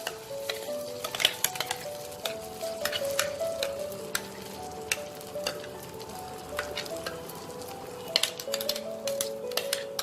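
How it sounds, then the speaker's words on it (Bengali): Taro root paste fries in hot mustard oil in a wok, a close crackling sizzle broken by frequent scraping and clicking strokes of a spatula as it is stirred. "এবার এই তেলে আমি এই মানকচু বাটাটা দিয়ে দেবো"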